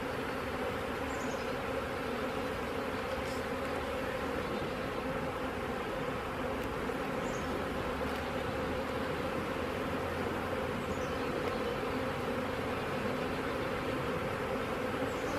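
Honeybees swarm around a nuc being set into a hive, making a dense, unbroken buzzing drone that stays level throughout, close and enveloping, with no talking.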